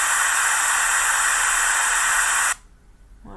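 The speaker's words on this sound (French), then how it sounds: "Et bruit blanc." Steady broadband white noise generated in audio editing software, a constant loud hiss that cuts off abruptly near the end and leaves near silence with faint background sound.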